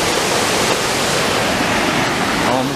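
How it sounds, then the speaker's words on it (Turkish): Düden waterfall in Antalya thunders up close as a dense, steady roar of falling water, loud and unbroken throughout with no pauses. "Düden Şelalesi'nin tam dibindeyim."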